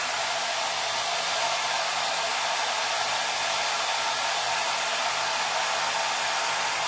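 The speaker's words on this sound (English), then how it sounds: "You then use your dryer again on low." A hair dryer runs steadily on a low setting, a continuous airy whoosh with no breaks or voices.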